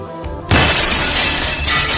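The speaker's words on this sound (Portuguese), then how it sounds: "a vidraça do lado direito do teto estourou" A glass skylight in a roof bursts in a sudden loud crash, followed by a dense, sustained shower of shattering shards that continues to the end.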